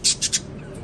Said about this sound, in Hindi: ये केज बड़ा और तोते हैं मेरे